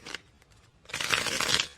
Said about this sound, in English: What's going on with my shuffling?